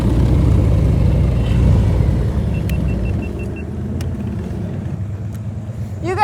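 Motorcycles riding by on a road: loud rumbling engines close at first, then fading as they pass into the distance.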